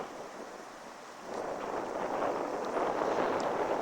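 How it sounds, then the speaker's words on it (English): Strong wind by the sea roars steadily outdoors, rising in force partway through with a broad rushing hiss like surf nearby, and no talking. "It's really windy."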